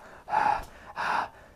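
Two heavy, loud breaths through a face mask in quick succession, each a rasping, muffled rush of air, with quiet pauses between, at night on a beach.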